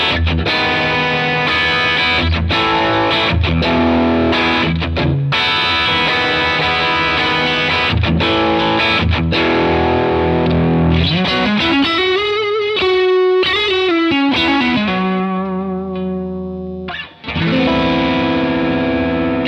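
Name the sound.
electric guitar through Browne Carbon X overdrive pedal, gain cranked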